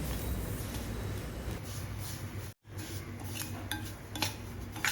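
Semolina is being roasted and stirred in a pan, a steady close scraping and rustling of a utensil against metal that runs continuously, with a brief pause midway and occasional light clinks.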